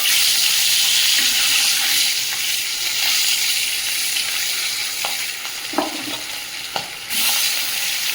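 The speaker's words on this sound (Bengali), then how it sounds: "তেলটা গরম হয়ে গেছে, এবার মাছগুলো ভেজে নেব।" Fish sizzle and spit in hot oil in a new, heavy wok, a loud continuous frying hiss up close, with a few sharp pops and utensil clinks near the end.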